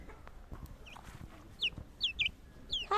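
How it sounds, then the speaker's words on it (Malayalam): A young backyard chick of a native village breed, let out among other hens, gives several short, high chirping calls in quick bursts, fairly close against quiet outdoor background. "നമ്മുടെ കുഞ്ഞിക്കോഴീനെ ഒന്ന് ജസ്റ്റ് ഞാൻ പുറത്തിറക്കിയതാണ് കേട്ടോ"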